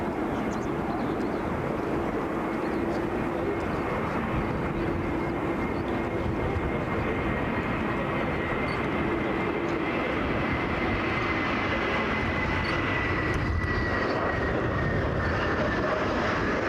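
A Middle East Airlines airliner arrives at Brussels Airport, its engines a sustained, moderately loud roar with a thin whine rising over it toward the end.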